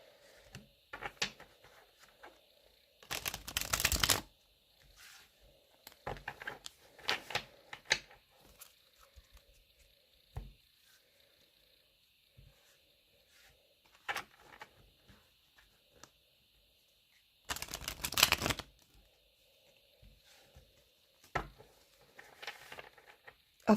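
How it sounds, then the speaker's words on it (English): Cards from a Blossom of Serenity tarot deck being shuffled in a quiet room, heard as two louder riffling bursts among scattered soft taps and handling noises. "Let's have a few shuffles."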